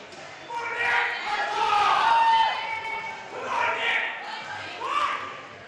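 Supporters in a crowd at a provincial weightlifting competition shout and cheer for a lifter during a heavy 105 kg open class attempt, with voices rising and falling in waves over several seconds.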